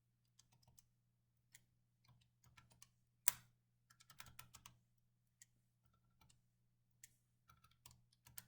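Values go into a matrix on a calculator keypad as a string of faint, sparse button clicks in a quiet room, irregular taps with one sharper click, no speech.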